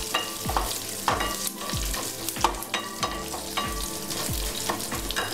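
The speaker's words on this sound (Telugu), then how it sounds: "ఆవాలు, జీలకర్ర, ఎండుమిరపకాయలు, కరివేపాకు కలుపుకుందాం." Mustard seeds, cumin, dried red chillies and curry leaves fry in hot oil for a tempering, with a steady sizzle, scattered seed pops and repeated spoon-stirring scrapes close up.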